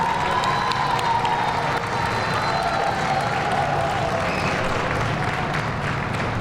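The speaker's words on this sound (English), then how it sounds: "Let's give the mayor a round of applause." A crowd at a community kickoff celebration applauds and cheers for the mayor, sustained clapping mixed with whoops and scattered voices, loud and continuous throughout.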